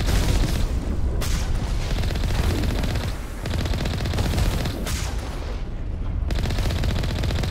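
Loud, sustained gunfire from the video game Mass Effect, with dense automatic bursts and heavy booming impacts packed together, broken by a few brief lulls over about seven seconds of near, continuous combat noise.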